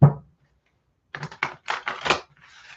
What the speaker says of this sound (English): Making the noise that the cards make when they do this.